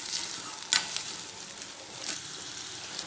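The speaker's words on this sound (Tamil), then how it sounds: "வெங்காயத்தை நல்லா வதக்கி விட்டுக்கலாம்" Chopped large onion sautéing in oil with mustard seeds for tomato thokku, a steady close sizzle with a couple of brief scraping stirs breaking through.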